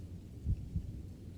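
A soft, muffled heartbeat heard up close, two low dull thumps about a quarter second apart over a quiet steady background hiss, with no talking.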